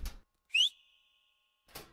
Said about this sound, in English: Step out, whistle.